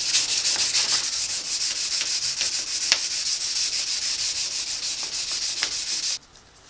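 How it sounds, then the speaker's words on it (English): A surfboard's cracked rail repair is sanded with 320 grit sandpaper in close, continuous rhythmic back-and-forth rubbing strokes, loud and steady, stopping abruptly near the end. "The 320 grit will take out any of the deeper scratches that you were making with that rougher sandpaper"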